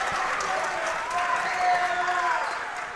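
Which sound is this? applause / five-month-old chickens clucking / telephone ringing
applause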